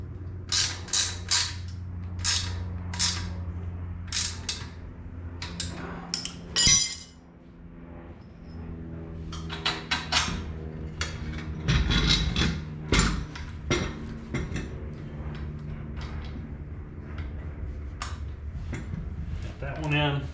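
Bolts are tightened on a VW suspension bar, with irregular metallic clinks, ratcheting clicks and creaks coming in bursts close by, a louder knock and clatter partway through, all alone without talk.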